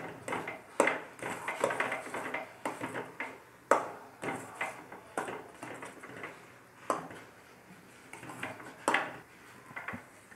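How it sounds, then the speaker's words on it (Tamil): Rava (semolina) is stirred in a pan, with a spoon repeatedly scraping and clinking against the metal in an irregular rhythm, close and fairly loud, with no speech. "நம்ம ரவாவை கொட்டி கொஞ்சம் கொஞ்சமாக கிளறி விட்டுக்கணும்"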